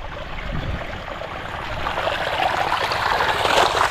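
Flowing water of a stream rushing steadily close by, a broad, continuous hiss and gurgle that grows slightly louder over the few seconds, with no voices.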